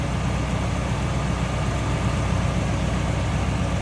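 A 1963 Ford Falcon Futura with a 260 V8 idles smoothly and steadily, a low, even engine hum that holds constant and close throughout with no voices.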